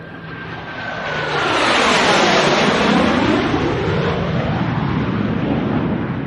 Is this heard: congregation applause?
no